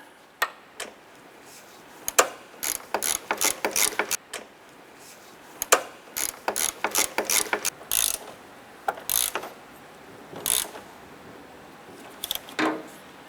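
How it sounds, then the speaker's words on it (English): A hand ratchet snugs down a front strut bolt on a 2007-2012 Nissan Versa. Rapid bursts of crisp, close clicking repeat in short runs, with brief pauses between strokes and no voices. "And then we'll snug down that back one with our ratchet."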